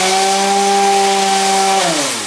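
An orbital sander with a hook-and-loop disc runs steadily on freshly cut wood, a loud, even whine with strong humming tones that drops in pitch as it winds down near the end.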